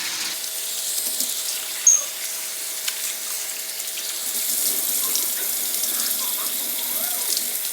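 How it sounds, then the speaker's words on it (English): Tap water runs steadily into a pot of rice being rinsed, a continuous close splashing wash with small clinks from the grains and pot, no talking. "you're gonna go ahead and rinse it off a good 5 times until you see the water is clear"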